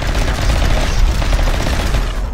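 Dense, continuous gunfire from a RimWorld colony battle, rapid shots blurring into a loud, steady rattle with low booming weight throughout and no talk over it.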